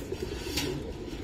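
Giribaz pigeons coo in low, rounded murmurs that roll on steadily in a near, moderately loud stream, with no voices over them.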